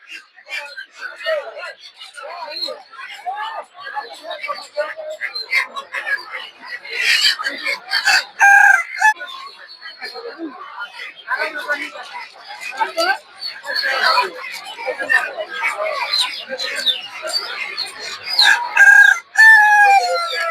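Roosters at the Gausia Golakandail poultry market crow loudly and repeatedly amid clucking hens and busy crowd chatter, with someone talking nearby throughout.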